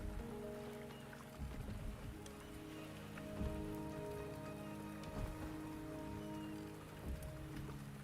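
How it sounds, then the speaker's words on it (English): Steady rain in the video game Wuthering Waves, a dense continuous patter of drops on surfaces with a soft low hum beneath, even and unbroken throughout. "The rain is subsiding,"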